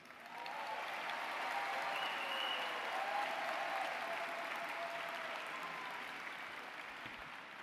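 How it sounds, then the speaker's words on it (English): Sustained applause and clapping from a large audience at a 2022 high school graduation ceremony, fairly distant and even in loudness, fading slightly toward the end. "Thank you for some of your clapping."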